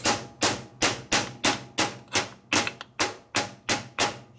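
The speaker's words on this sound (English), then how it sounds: "See, I have a nice smooth hammer here." A smooth hammer tapping on the shaft of a 1941 74ci Knucklehead motorcycle, about ten crisp, evenly spaced metallic strikes at a steady rhythm, close and clear.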